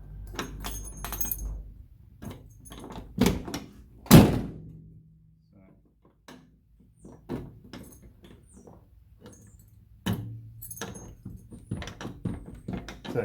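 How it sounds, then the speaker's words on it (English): A key turns and clicks in the driver's door lock of a Rover P5 MK1, giving sharp metallic clacks and one loud thunk among small rattles and jangles, heard up close with occasional talk. "So yes, we can lock it with the key on the driver's door."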